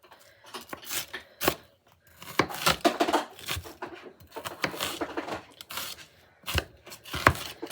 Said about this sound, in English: We're just gonna chop, chop, chop. And the same with the celery,